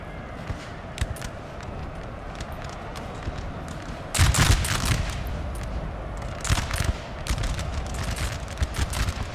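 Massed musket volleys from units in a Napoleonic strategy video game crackle steadily in the distance, with a louder burst of firing midway and continuous battle noise underneath.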